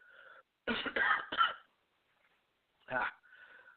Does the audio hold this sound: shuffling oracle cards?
no